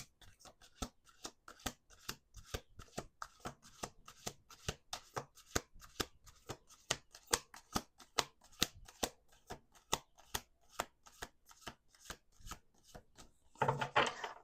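Rapid riffle shuffling of playing cards, crisp repeated bursts of clicking and flapping in quick rhythmic runs, close up with no talking.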